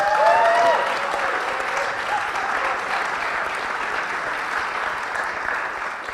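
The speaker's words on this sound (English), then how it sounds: "So a big round of applause for yourselves" Audience at a relationship panel discussion in Byron Bay claps in a sustained round of applause, a dense wash of many hands that peaks early and then holds steady for several seconds.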